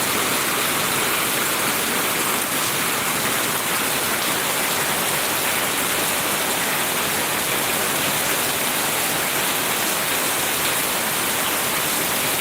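Heavy rain pours down in a dense, loud, unbroken hiss that stays steady throughout, with no voices.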